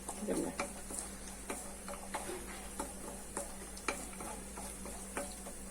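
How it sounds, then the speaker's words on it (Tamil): Cashews lightly roasting in a pan, with a steady soft sizzle and spatula stirring clicks and scrapes recurring about every half second, close and fairly quiet, with no talking. "முந்திரி கொஞ்சம் லைட்டா வறுபட்டுது"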